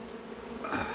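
Honey bees buzz inside a hive box, a steady close drone that swells louder toward the end, with no voices.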